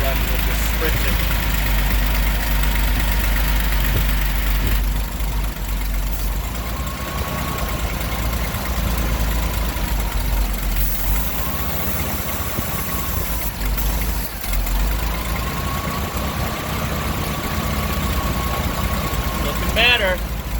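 Old GMC truck with a big V6 that had sat unused for eight years, idling loud and steady up close on starting spray and fresh fuel, with a person talking over the engine.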